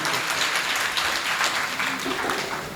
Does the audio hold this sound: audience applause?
yes